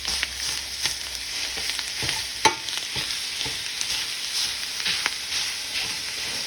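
Italian sausage and ground beef brown in a pan with a continuous close sizzle, punctuated by scraping stir strokes and occasional pops.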